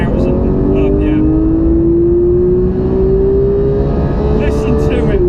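A Porsche 911 GT3 engine and exhaust rev steadily toward 9,000 RPM, the rising whine climbing in pitch over several seconds, loud and close, heard from inside the car under constant road roar.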